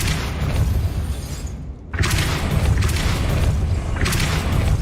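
Depulso spell cast in the Hogwarts Legacy video game, a loud, dense blast of game sound effects with a brief dip of near-silence in the middle before the noisy rumble and bursts resume.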